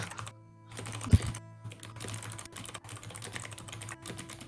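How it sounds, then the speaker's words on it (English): Computer keyboard clicking in quick, steady bursts of keystrokes, close and clear, with a brief pause near the start and a low hum underneath; no one speaks. "Give me some ASMR keyboard."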